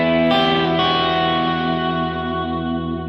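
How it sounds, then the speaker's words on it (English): An electric guitar solo played through delay and reverb effects, sustained distorted notes ringing with echoing repeats and a wide wash of tail, loud and alone. "if I add a little bit of delay and reverb back into this."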